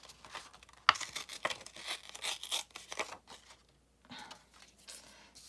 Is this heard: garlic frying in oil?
no